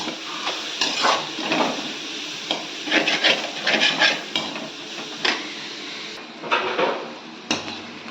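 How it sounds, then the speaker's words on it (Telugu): Onions frying and being stirred in a pan for egg pulusu, a steady sizzle broken by repeated scraping strokes of a spoon against the pan, close and alone with no talk. "ఈ ఆనియన్స్ ఏమైందంటే బాగా వేగాలి."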